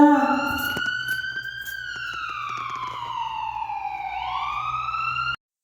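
An ambulance siren wails loud and close, its tone gliding steadily down and then sweeping back up, with a brief burst of shouting at the very start before the siren carries on alone and cuts off abruptly.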